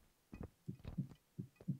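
A slow, muffled heartbeat plays in the horror video game Goosebumps Night of Scares, paired low thumps repeating about three times, quiet and steady with no talking.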